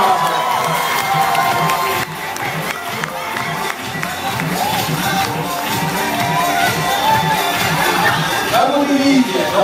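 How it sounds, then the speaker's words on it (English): A large audience at the Radio One Hackney Academy cheers and shouts loudly for Usher, a sustained roar of voices and whoops filling the whole stretch with scattered clapping mixed in. "So please stand up, give him a round of applause"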